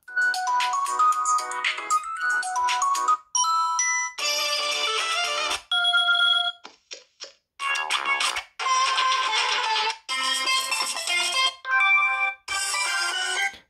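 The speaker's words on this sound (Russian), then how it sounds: "Давайте попробуем еще рингтоны какие-нибудь посмотреть." Several bright, chiming ringtone melodies from a Blackview Shark 8 phone play one after another, each a few seconds long, separated by brief pauses, loud and close.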